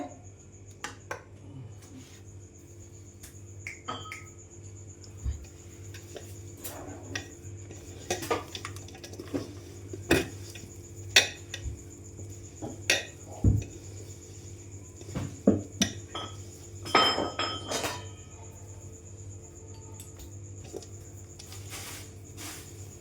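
Jaggery is stirred into mango pickle in a metal pot, giving scattered light clinks and scrapes of a spoon against the vessel over a faint steady background hum.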